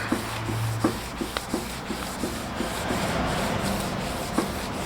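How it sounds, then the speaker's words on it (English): Car bumper being sanded by hand with very fine 2000 grit sandpaper, a soft steady rubbing with faint regular strokes, close and continuous. "it literally just needs a very fine 2000 grit."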